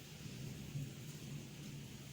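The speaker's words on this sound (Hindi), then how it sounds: "बारिश तेज़ होने शुरू हो गई है" Heavy rain falls in a continuous steady hiss as the downpour grows stronger, with a deep low rumble of thunder underneath, faint and even throughout, with no voices.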